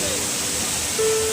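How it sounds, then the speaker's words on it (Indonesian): The Mengaya waterfall gives a loud, continuous broadband rush, steady throughout, with a brief faint tonal sound joining near the end. "Itu air terjun."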